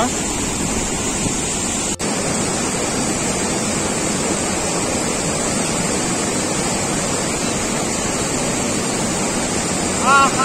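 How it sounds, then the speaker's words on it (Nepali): A river fed from Gosaikunda rushing under the Trishuli Bailey bridge, a loud, steady roar of flowing water with a single sharp click near the start, close and continuous throughout. "यो चाहिँ गोसाई कुण्डबाट आएको नदी रहेको छ"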